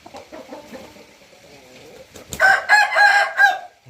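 A ten-month-old rooster makes low clucking calls, then lets out one loud, close crow lasting about a second with a warbling, stepped rise and fall.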